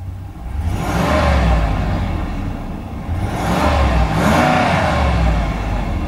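A 2016 Ram 2500 Lone Star with the 6.4 engine revved while parked: two loud swelling revs rise and fall over a continuous idle rumble, with no talking.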